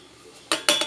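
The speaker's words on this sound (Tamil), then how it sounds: "இப்போ ஜாரில் தேங்காய் போட்டுடலாம்" Grated coconut being tipped into a mixer jar, quiet at first, then two or three sharp, close clinks and clatters of the jar and utensil in quick succession.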